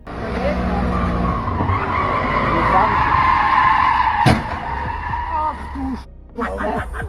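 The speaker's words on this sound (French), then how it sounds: "créant une scène d'accident chaotique avec du métal tordu, du verre brisé et des freins hurlants" A supercar skidding in a crash, a loud sustained tire squeal with engine roar and a sharp impact bang, followed by excited voices exclaiming.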